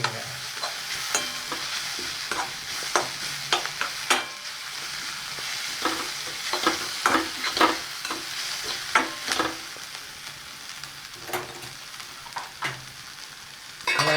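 Kothu parotta ingredients frying in oil in a pan, a continuous sizzle broken by frequent sharp scrapes and clacks of a utensil stirring and tossing, close and busy with no voices.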